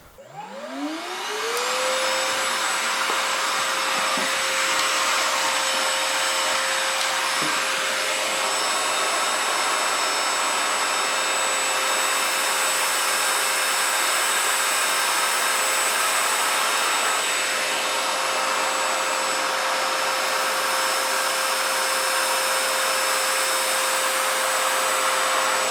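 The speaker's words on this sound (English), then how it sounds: "Let's start with the long pile carpet and the original dust bag." A Parkside PAWD 20 Li A1 cordless vacuum cleaner spins up and runs steadily over long pile carpet with the original dust bag, a loud continuous whine and rushing airflow that holds level throughout, no talk.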